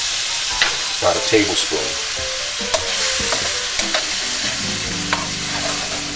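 Lea & Perrins Worcestershire sauce hits a hot pan with shrimp and sizzles loudly and continuously, close up, with a few sharp crackles and spoon scrapes while a voice speaks briefly.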